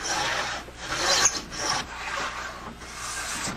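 A hand tool cuts and rasps along a track in horn being shaped for bow lamination, giving a steady, close scraping sound with repeated strokes throughout.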